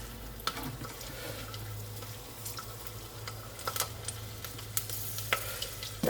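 Garlic cloves frying in plenty of hot olive oil in a pan on high heat, with a steady sizzle and scattered clicks and scrapes of a utensil stirring; close and moderately quiet, with no talking.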